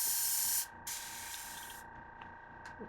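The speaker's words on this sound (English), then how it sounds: "get some clean water and spray into a paper towel for a second" Clean water is sprayed from a spray bottle into a paper towel in two sharp, close hissing bursts, the second longer, followed by faint taps.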